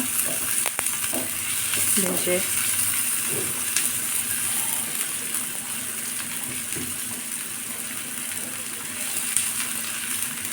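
Beef pieces frying and being browned in a pot for Bangladeshi-style beef nihari, a steady close sizzle with occasional stirring scrapes and spoon knocks running throughout.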